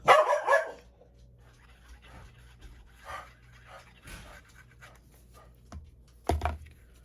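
A dog pants and barks nearby, with a loud burst of yips at the start, quieter panting and shuffling through the middle, then another sharp bark near the end over a low room hum.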